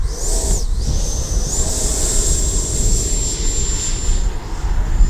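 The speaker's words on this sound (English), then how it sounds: "Now we're going to take off in the grass" Small airplane taking off from a grass strip, a loud steady engine roar with a rising high whine, heard from inside the cockpit without talk.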